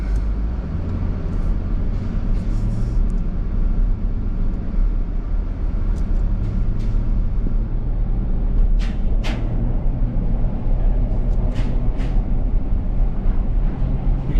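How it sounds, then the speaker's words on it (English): A car crosses a historic bridge in Revelstoke, British Columbia with the window down, giving a loud, steady road roar and low rumble throughout, with a few faint higher clatters and no talk. "put the window down so we can hear the sound of the bridge"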